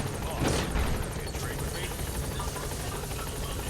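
A support helicopter in Metal Gear Solid V arriving with a steady, loud rotor thrum and whine, with a voice talking over it.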